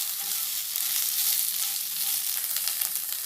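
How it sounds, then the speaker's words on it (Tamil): Omavalli leaves, Indian borage, sautéing lightly in a pan, a soft continuous sizzle with faint stirring, close by and with no talk. "இந்த ஓமவல்லி இலையையும் போட்டு லைட்டாக வதக்கி விட்டுக்கோங்க"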